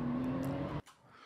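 Race car engine from Gran Turismo 7 at Daytona, a loud steady high-pitched drone that cuts off abruptly after under a second, leaving faint residual noise.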